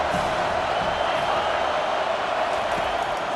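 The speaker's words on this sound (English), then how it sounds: "Decibels rising as the crowd gets behind this defense on third down." Stadium crowd in College Football 25 during Wyoming at Miami, a steady, dense roar of thousands of fans holding at an even level throughout, with no breaks or distinct voices standing out.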